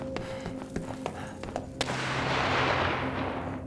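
Sniper gunshots in This War of Mine ring out as several sharp, distant cracks in an irregular sequence, followed by a swelling rush of broad noise, with no talking over them.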